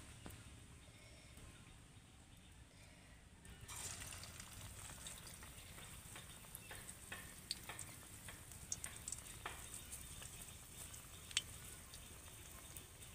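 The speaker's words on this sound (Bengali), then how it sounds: "এবার আমি সজনে পাতার বড়াগুলোকে ভেজে নেব। তেল গরম করে নিয়েছি।" Small drumstick leaf fritters begin frying in hot oil after a quiet start, settling into a soft steady sizzle with scattered tiny pops, fairly faint and close, without talk.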